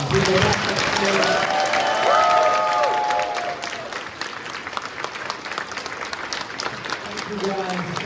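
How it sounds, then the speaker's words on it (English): Audience applause at a comic expo panel for the X-Men '97 cast, loud clapping and some cheering that swells and then thins, with a voice speaking over it. "Can we have a huge round of applause?"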